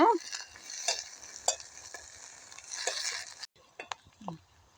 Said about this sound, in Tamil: இப்போ பார்த்தீங்கள் என்றால் வதங்கி கொண்டு வருகுது பிரண்டை கலர் மாறிக்கொண்டு வருகுது